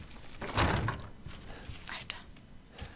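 A door opens in the horror video game Resident Evil 7 with a dull thunk and creaking movement, followed by quieter scraping sounds and a faint whispering voice.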